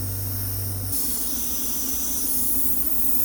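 Airbrush spraying paint on a crocus painting gives a continuous breathy hiss that brightens a little after the first second, with a low hum underneath and no talking.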